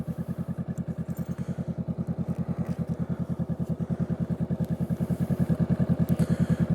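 A Honda Rebel 500 motorcycle thumps along at steady cruising speed, its twin engine producing a rapid, even pulsing rumble close to the rider with wind noise, gradually getting a bit louder.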